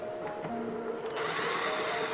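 A power screwdriver backs screws out of the front panel of an eight-year-old cabinet air conditioner, starting with a thin motor whine and then rising to a louder, steady buzzing whir, close up.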